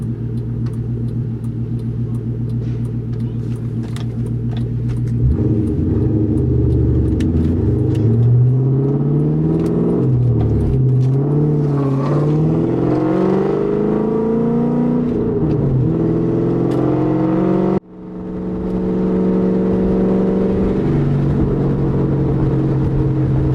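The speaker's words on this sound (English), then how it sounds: "The car just pulls in every gear. I'm doing 50 miles an hour in fourth gear and it just takes off." A 1999–2004 Ford Mustang GT V8 with 4.10 gears revs up through several gears, pulling hard in fourth at 50 mph, pitch rising and dropping with each shift, loud and close from inside the car.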